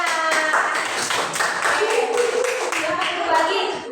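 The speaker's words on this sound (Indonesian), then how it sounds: "beri tepuk tangan" A classroom of children claps together in brisk, steady applause lasting a few seconds, with children's voices mixed faintly into the noise.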